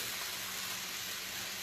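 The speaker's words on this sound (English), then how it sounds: "Oh, listen to the sizzle." Chicken thighs fry in hot oil, giving off a constant crackling sizzle that stays even and fairly close throughout a brief moment with no talking.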